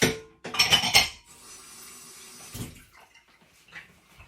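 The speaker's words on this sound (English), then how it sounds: "So I've gone in with my hand and given it a mix" Bread dough with yeast and lemon zest is mixed by hand in a bowl, giving a few quick clattering knocks against the bowl, followed by soft, quieter squelching and scraping.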